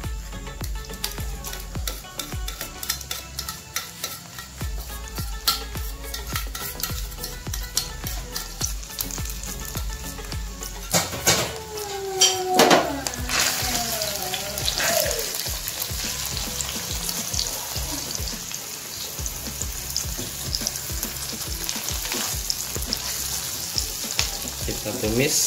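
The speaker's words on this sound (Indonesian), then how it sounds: "Kita tumis sampai harum dulu, tercium harum." Ground spice paste sautés in oil or margarine, crackling with dense spattering pops and a continuous sizzle. A stirring scrape and brief squeaks come near the middle, and faint voices murmur in the background.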